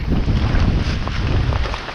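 Strong wind over a tomato field buffets the microphone with a steady low roar, loud and continuous throughout, with faint water sounds in the background.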